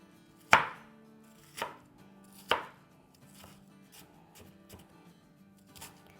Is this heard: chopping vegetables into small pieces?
yes